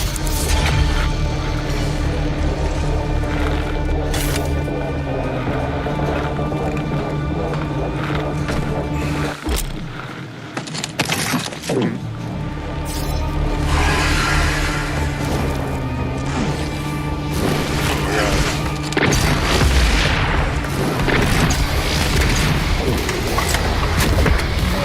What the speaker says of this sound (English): Press LB to launch a grenade.